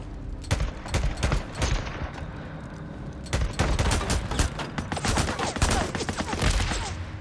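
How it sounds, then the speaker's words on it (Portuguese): Rapid bursts of gunfire in the video game Days Gone, loud clustered shots in several volleys separated by short pauses, firing alone without talk. "esse maluco aqui já tomou uma saravada de tiro"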